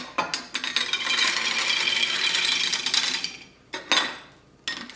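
Bag of mini marshmallows poured into a glass half-gallon mason jar, a continuous soft rattling rush against the glass lasting a few seconds, followed by a few separate clattering bursts, close and fairly loud.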